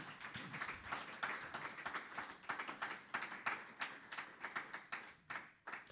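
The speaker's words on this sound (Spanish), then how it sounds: "Démosle un aplauso a nuestro Dios que vive." Congregation clapping for God at an evangelistic campaign service, a steady run of many hands with sharp individual claps rising and falling over several seconds, no voices on top.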